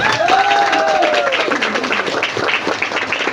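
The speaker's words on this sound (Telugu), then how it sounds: "గట్టిగా క్లాప్స్ అవ్వాలి." A meeting audience claps loudly, a busy crowd patter that starts strong and eases a little, with a voice briefly heard over the applause.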